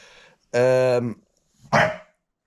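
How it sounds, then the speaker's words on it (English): Dogs bark loudly and close by, a sharp bark and then a second rougher bark after a short pause. "Flipping dogs!"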